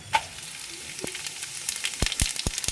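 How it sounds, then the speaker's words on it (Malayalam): Whole spices (cinnamon, fennel, cardamom and cloves) dropped into hot oil left from frying chicken, a quiet close sizzle punctuated by a few sharp pops and clinks that grow busier toward the end, with no talking. "നമ്മളിതിലിപ്പോൾ പട്ട, പെരുംജീരകം, ഏലക്ക, ഗ്രാമ്പും കൂടി ചേർക്കുകയാണ്."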